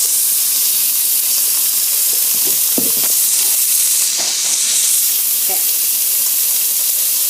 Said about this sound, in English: it's gonna brown it and cook those meat